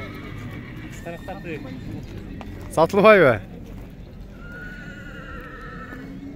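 A horse at a livestock horse market in Jumgal, Naryn, lets out one loud, close whinny amid faint hoof clops, while people talk before and around it.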